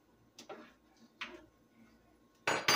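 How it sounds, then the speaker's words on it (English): Pasta stirred in a pot on the stove: a few light, sparse clinks and taps of a utensil against the pot, then two louder scraping knocks at the end. "My pasta. Gotta keep constantly stirring."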